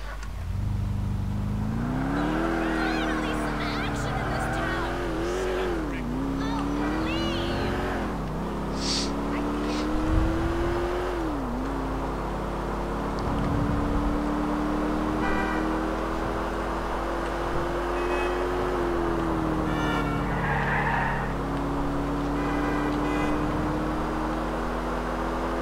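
Car engine in Grand Theft Auto IV driving steadily with a droning hum that rises and falls as it accelerates and shifts, beneath game ambience and occasional voices.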